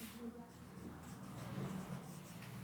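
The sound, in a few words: writing words by hand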